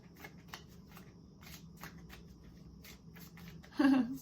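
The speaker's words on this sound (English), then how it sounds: "let's pull some past life cards for you" Tarot cards being shuffled and pulled during a card reading, with soft repeated riffling and flicking at close range, then a brief voice at the end.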